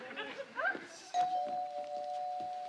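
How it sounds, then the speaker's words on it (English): A doorbell chimes with two clear tones, the second held and ringing out, heard amid talking voices and light thumps in a sitcom living-room scene. "Doorbell!"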